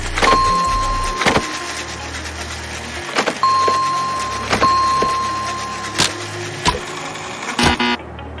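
A homemade unusual car whirs steadily as it drives at a 4.5-inch-high obstacle, with a thin high motor whine and several sharp knocks and thumps as it strikes and fails to climb it.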